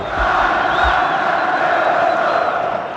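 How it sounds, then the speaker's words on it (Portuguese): Vasco football fans celebrate a victory in a stadium during a Copa do Brasil match against Fluminense, a dense, steady roar of crowd chanting and cheering with faint whistles, continuous throughout. "a torcida do Vasco comemora uma importante vitória"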